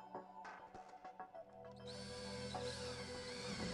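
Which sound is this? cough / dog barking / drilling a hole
drilling a hole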